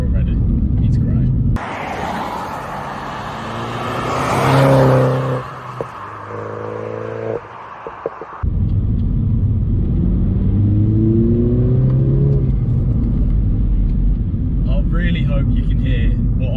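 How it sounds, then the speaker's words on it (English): Mini John Cooper Works engine with air intake noise at the front and a standard exhaust, heard from the cabin: a steady low rumble that rises in revving, rising-pitch surges, with a louder, harsher stretch of intake roar mid-clip. "There's so much like air intake noise coming from the front."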